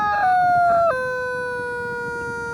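Squeaky toned squeal from a rubber chicken toy pranked on a Venice Beach boardwalk, a long drawn-out rising-then-falling cry that steps down in pitch and fades over a couple of seconds, alone with no talk.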